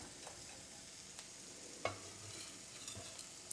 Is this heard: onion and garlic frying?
yes